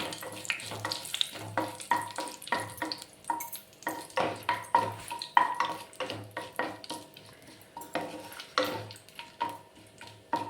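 Whole garam masala spices and a bay leaf fry in a pan, with a steady soft sizzle and repeated clinks and scrapes of a spoon against the pan, close and moderately quiet, with no talk.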